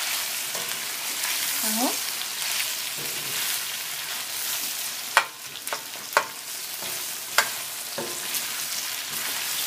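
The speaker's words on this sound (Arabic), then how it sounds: "هقلب البصل كده لحد ما يتفكك بس، لحد ما يفك من بعضه." Chopped onions for sausage shawarma sizzle steadily in a hot pan while a utensil stirs them, with several sharp scraping knocks against the pan near the middle. A voice speaks briefly.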